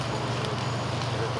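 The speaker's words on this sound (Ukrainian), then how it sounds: "Тут і досі можна побачити відкрите полум'я." Steady crackling roar of a forest fire with a low rumbling wash underneath, continuous and fairly close, no voices.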